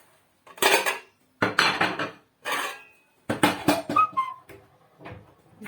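Metal pots and pans clank and scrape in several bursts, close by, with a brief lid ring among the clatter.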